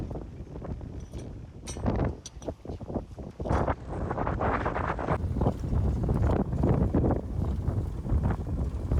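Strong wind gusts across a cotton field, buffeting the microphone with loud, roaring low rumbles that rise and fall irregularly.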